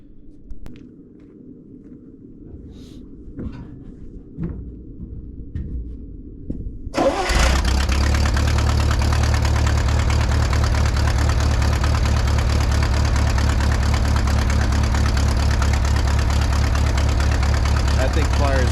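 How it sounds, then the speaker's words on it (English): A Bobcat skid steer, an old machine brought in for resale, sits quiet under faint footsteps and clicks, then cranks and fires at about seven seconds and settles into a loud, steady idle close by for the rest of the clip. "That thing fires right up, tap of a key."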